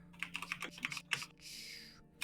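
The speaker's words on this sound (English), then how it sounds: "Is that you typing, Pastry?" Rapid clatter of typing on a computer keyboard while notes are taken, a run of quick uneven keystrokes followed by a brief smoother swipe-like burst, fairly close and moderately quiet.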